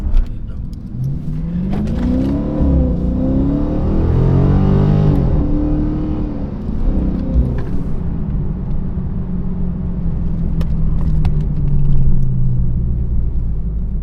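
A Scat Pack muscle car's engine rumbles deep and loud up close, with a sweeping rev that rises and falls early on before settling back into a steady, throaty drone.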